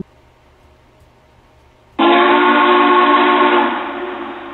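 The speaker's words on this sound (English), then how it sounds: "It's actually recording a 4014's whistle." A recorded whistle of the Big Boy 4014 steam locomotive blasts suddenly after a quiet lead-in, a loud sustained chord-like tone holding for about two seconds before fading somewhat while still sounding.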